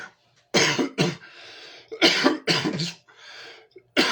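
Several sharp, close coughs in irregular bursts, a pair, then a pause, then another quick cluster, with brief quiet gaps between them, in a kitchen with the air conditioning running.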